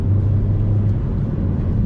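A MINI John Cooper Works hot hatch drones along a country lane, its engine a steady, loud low rumble heard from inside the car, with no talking over it.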